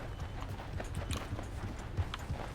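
Horse hooves clip-clopping in Red Dead Redemption 2, a quick, steady rhythm of close hoofbeats on the ground with no voices.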